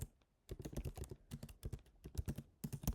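Quiet, close keystrokes on a computer keyboard come in a quick, irregular typing rhythm after a brief pause at the start.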